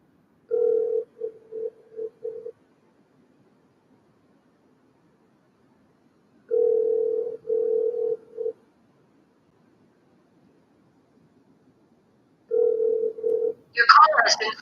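A telephone ringback tone plays before the call forwards to voicemail: three bursts of repeated ringing tones separated by long silent gaps, with a brief voice entering at the very end.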